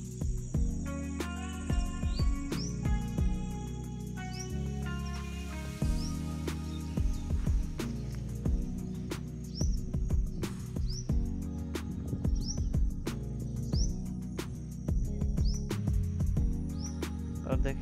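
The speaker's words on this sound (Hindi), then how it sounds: "शांत मौसम में दोस्तों आप चिड़ियों की चहचहाट सुन रहे होंगे" Birds chirp in short, repeated high calls on a calm evening in the hills of Jharkhand, fairly close and regular through the scene. A voice and other steady tonal sounds run beneath them.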